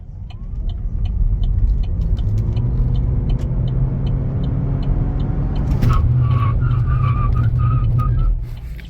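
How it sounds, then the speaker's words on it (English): A Chevy Volt hybrid accelerating at full throttle, its engine kicking on with a rising drone and whine, steady and close, then easing off and cutting out near the end. "you can hear that engine kick on to give it that extra grunt when it's floored"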